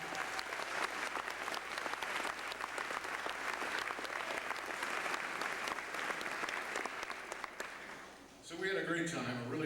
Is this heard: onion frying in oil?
no